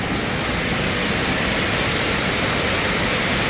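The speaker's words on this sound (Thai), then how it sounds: "ฝนตกวัดมือวัดเว้นทุกคน ตกทั้งวันทั้งคืนจ้าพี่น้อง" Heavy rain in a storm in Laos, pouring down as a loud, dense, unbroken roar of water striking surfaces, with no voices.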